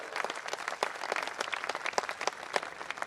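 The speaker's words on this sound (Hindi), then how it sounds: "मैं चाहता हूं भाई सुरेश अलबेला के सम्मान में एक बार जोरदार तालियां दोनों हाथ ऊपर उठाकर" An audience at a Hindi comic poetry gathering in Jodhpur gives hearty applause in honour of poet Suresh Albela, a dense, steady patter of many hands clapping close by for about three seconds.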